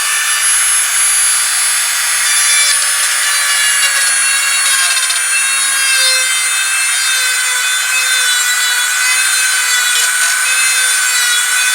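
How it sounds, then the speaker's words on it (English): A Dremel fitted with a small barrel sander grinds powder coating off a Kawasaki GPZ500S motorcycle part, a loud, continuous high-pitched whine with a steady abrasive hiss and no talk. "just like a little barrel sander thing on the end of my Dremel there, just to take a little bit of the powder coating off"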